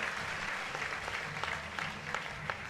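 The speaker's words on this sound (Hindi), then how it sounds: "तो एक बार जोरदार ताली आप सभी के लिए।" An audience at a Jain diksha ceremony at Pavagadh breaks into applause, brisk continuous clapping with a few sharp claps standing out over a low hum of the gathering.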